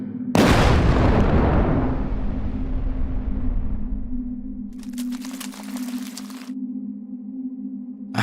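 A Minecraft creeper blows up in a single loud, deep boom that decays slowly into a rumbling tail under a steady low hum, followed by a brief crackling burst.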